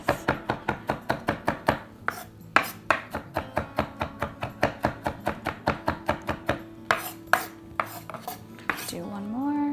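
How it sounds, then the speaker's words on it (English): A knife dices a spicy ingredient, likely chili, on a cutting board for a chickpea pasta salad, giving rapid, close, evenly spaced chopping knocks that continue steadily before a brief scrape at the end. "So you want them to be nice and diced up."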